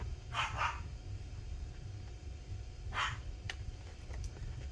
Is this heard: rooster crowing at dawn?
no